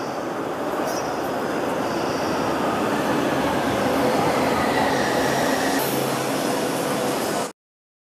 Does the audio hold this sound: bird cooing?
no